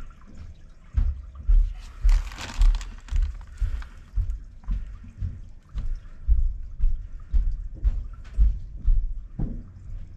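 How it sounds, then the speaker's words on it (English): A toilet is flushed after a drain clog of paper towels and wipes, with water gurgling and rushing in repeated uneven surges, close by and fairly soft. "And here comes the flush."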